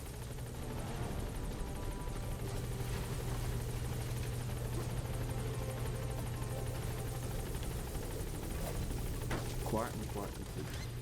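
A support helicopter in Metal Gear Solid V: The Phantom Pain hovers at a landing zone with a steady, droning rotor hum, loud and continuous throughout, while radio-style voices talk over it.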